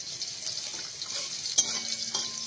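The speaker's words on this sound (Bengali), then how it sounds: "গ্রেভিটা বানানোর জন্য তেলের মধ্যে দিয়ে নেব 2টো তেজপাতা, 2টো শুকনো লঙ্কা, 2টো এলাচ, 4টে লবঙ্গ আর অল্প একটু দারুচিনি" Bay leaves, dried red chilies, cardamom, cloves and a little cinnamon fry in hot oil, giving a steady close sizzle with occasional crackles and a brief clink of a utensil.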